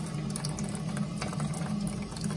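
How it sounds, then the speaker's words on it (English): Hot water flows steadily out of the lid of an S40 steam condenser, a continuous gushing, burbling wash over a low hum with no pauses and no voices. "There is water coming out there."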